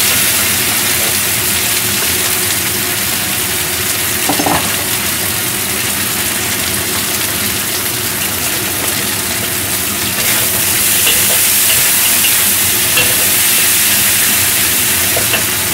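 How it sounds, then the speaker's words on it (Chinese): Chicken frying in plenty of oil for a shiitake braise, with oil spitting from the pan. A loud, constant hiss is broken by a few crackles and grows stronger near the end. "好多油會飆出嚟。"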